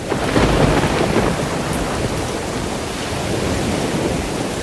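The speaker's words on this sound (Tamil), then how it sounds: "காலையில் வரும்போது கூட இப்படி மழை பெய்யும்னு நினைக்கவே இல்லை" Heavy rain pours steadily and loudly with deep rumbles of thunder rolling through, a dense continuous wash of downpour with no break.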